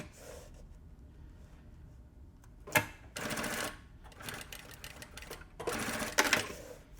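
Sewing machine stitching forward and reversing to lock and reinforce a seam, with short bursts of rapid mechanical needle chatter separated by quiet pauses, close and fairly loud.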